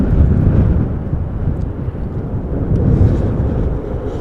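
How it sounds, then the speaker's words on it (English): A KLM Boeing 737-800 arrives at Amsterdam Schiphol Airport in stormy weather, its low, rumbling engine roar loud and continuous, mixed with gusty wind buffeting. "This is KLM flight 1598, the 737-800 arriving from Rome"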